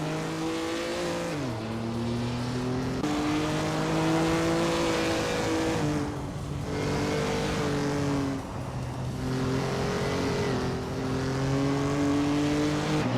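Vintage street cars racing on a track, engines droning and revving loud and close, pitch climbing through each gear and dropping at shifts in a repeating rise-and-fall pattern.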